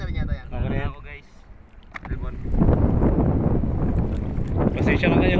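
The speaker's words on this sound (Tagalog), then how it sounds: "medyo mahangin talaga" Blustery wind buffets the microphone in a steady low roar, with a brief lull before it picks up again and stays strong.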